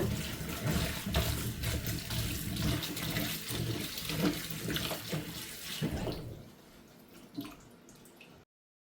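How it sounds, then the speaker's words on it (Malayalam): Cut pumpkin pieces are washed under a running kitchen tap, a loud steady gush of water that drops after about six seconds to quieter splashes and drips, with no talking. "മത്തങ്ങയൊക്കെ കട്ട് ചെയ്ത് നല്ല പോലെ ഒന്ന് വാഷ് ചെയ്തിട്ട്"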